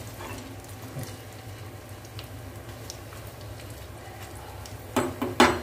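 Slices of raw plantain (nendran banana) frying in hot oil for chips give a soft, steady bubbling sizzle, with a few sharp clattering knocks near the end.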